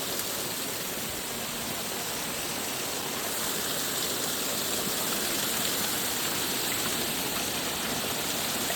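Water pouring from the 108 gomukh spouts at the Muktinath temple, a dense, steady rush of falling water heard close and continuous, with no talk.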